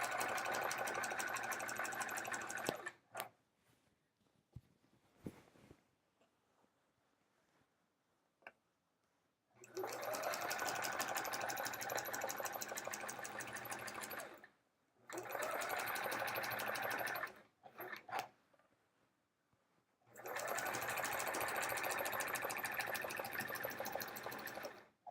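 A sewing machine stitches metallic quilting thread on a quilt in steady running bursts, stopping and starting several times, with quiet pauses between runs.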